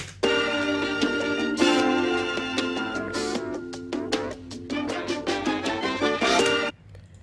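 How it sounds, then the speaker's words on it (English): A melodic sample with a thin, band-limited, telephone-like tone from a low-cut filter, playing a sequence of plucked notes and chords that stops abruptly near the end. "That way just it sounds like a telephone effect kind of"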